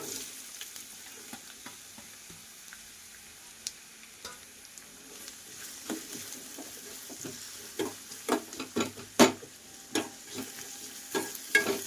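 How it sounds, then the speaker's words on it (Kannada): Chopped onion added to ginger and garlic frying in a pan, a steady low sizzle with scattered stirring clatters that grow louder and more frequent toward the end, no talking. "ಸ್ವಲ್ಪ ಶುಂಠಿ ಮತ್ತು ಬೆಳ್ಳುಳ್ಳಿ ಕೆಂಪಾದ್ಮೇಲೆ ನಾವು ಹೆಚ್ಚಿಟ್ಕೊಂಡಂತಹ ಉಳ್ಳಾಗಡ್ಡಿನ ಹಾಕ್ಕೊಳ್ಳೋಣ"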